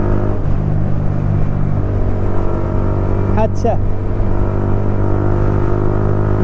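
An old, rickety motorbike on a casual Sunday ride gives a steady, loud engine drone with road rumble throughout, while people talk over it.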